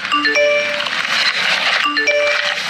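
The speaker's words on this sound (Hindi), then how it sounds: "फोन किसका बज रहा?" A melodic iPhone ringtone chimes in a repeating pattern of bright tones, loud and close, sounding twice.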